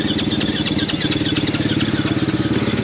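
An enduro motorcycle engine runs roughly at a Welsh extreme enduro race, a loud, close, uneven pulsing idle that stumbles rhythmically without revving cleanly.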